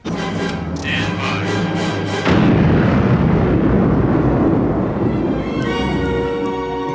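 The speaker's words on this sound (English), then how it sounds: "Talk about satisfying explosions." Loud explosions from the Star Wars films, including the Death Star's destruction, boom and rumble one after another, a dense roaring blast swelling midway before tapering off into lingering debris and tones.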